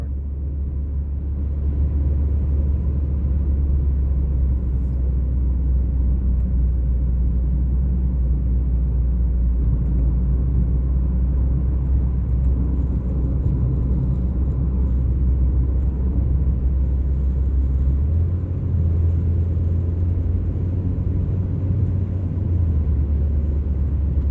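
Steady low rumble of a car driving along a road, continuous engine and road noise at a constant level with no talking.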